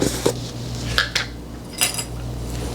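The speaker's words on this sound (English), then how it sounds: "I have a plastic knife in there to help me level that off" A two-tablespoon measuring spoon of cornstarch is leveled off with a plastic knife while making an Instant Pot cheesecake, heard as a few sharp clinks and scrapes spaced apart, close by, over a low steady hum.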